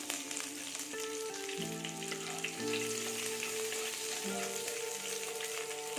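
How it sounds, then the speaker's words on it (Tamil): Mustard seeds, fenugreek and curry leaves sizzle and crackle steadily in hot oil, a close, continuous frying hiss with scattered pops and no voices. "கடுகு வெந்தயம்லாம் நல்லா பொறிஞ்சிருச்சு ஒரு கலர் கலரி விட்டுட்டு இப்போ கொஞ்சமாக கருவேப்பிலை போட்டுக்கலாம்"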